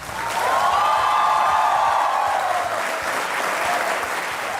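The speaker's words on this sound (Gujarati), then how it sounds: "અને આ તાળીઓ વાગતી રહે" A studio audience claps continuously on the Aap Ki Adalat TV set, loud and even throughout the short stretch, easing off slightly toward the end.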